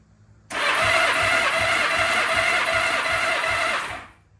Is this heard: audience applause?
no